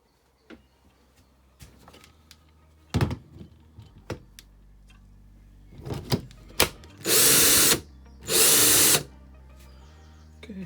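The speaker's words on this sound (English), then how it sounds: "if we just test in the angle grinder now and see what happens" A repaired Ryobi One+ R18AG cordless angle grinder fires up in two short, loud bursts of whirring, each lasting under a second, after some quieter handling clicks and knocks.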